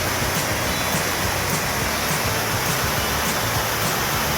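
Waterfall in Alaska beside a glacier, a steady, loud, full roar of falling water filling the scene without pause and no talk over it.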